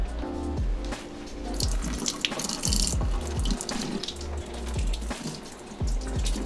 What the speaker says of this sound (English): Let's rinse it off, see what it looks like.